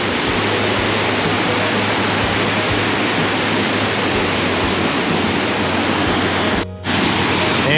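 Burney Falls waterfall roars in a loud, steady, broadband rush heard close up, with a brief dip near the end.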